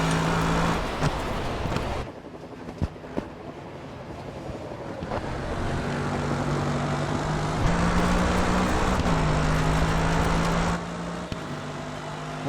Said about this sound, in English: That's where I hit the e-brake, handbrake, whatever you want to call it.